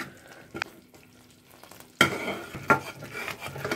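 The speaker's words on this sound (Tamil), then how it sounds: "இப்போ நம்ம நெய் விடணும், கீ மைசூர் பாக் நெய் வந்து இப்படி ஊற்றி கலரிட்டே இருக்கணும்" Ghee is poured and stirred into Mysore Pak mixture in a pan: quiet scraping and a few soft knocks first, then a sudden sizzle and vigorous frying as stirring continues up close.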